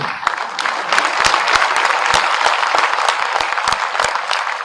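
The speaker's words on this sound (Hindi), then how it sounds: "ताली कम बजा रहे हो।" A crowd at a political speech claps loudly and steadily, with sharp individual claps standing out within a thick, continuous round of applause that holds at full strength throughout.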